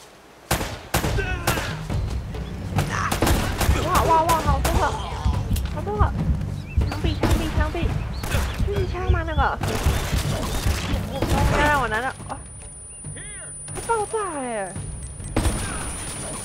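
Rapid volleys of gunfire in the action game Uncharted on its hardest difficulty, with sharp repeated shots and bursts clustered early and scattered throughout, under excited talking by a player.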